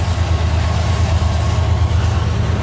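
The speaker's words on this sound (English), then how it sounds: "here's train number 8." CN 385 southbound freight train rolling past in Port Huron, Michigan, a loud, steady low rumble of wheels and cars that holds continuously throughout without letup.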